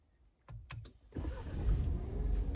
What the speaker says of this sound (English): So with the key fob sitting on the seat, let's see if she starts.